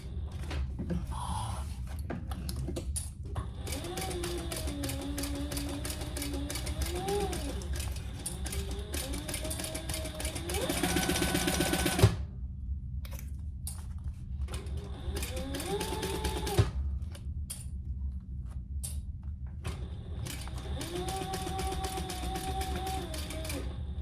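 A sewing machine stitches the side seams of a fabric wristlet in bursts of rapid, even needle clatter, nearby. Short pauses separate the bursts, and faint handling noises and a few clicks come between the runs.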